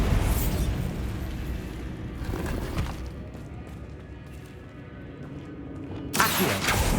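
Bombarda explosion spell in Hogwarts Legacy: a loud crackling blast that decays into a rumbling tail, then a second sharp burst near the end, with no talking.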